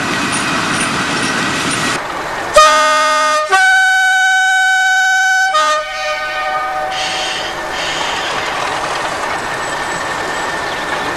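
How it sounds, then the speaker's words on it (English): A coal train's whistle sounds for an ungated level crossing at Pentwynmawr in one sharp blast and then a long sustained tone, loud and close, over the steady rumble of the moving train. "The driver blows the whistle for the ungated level crossing at pentwynmawr."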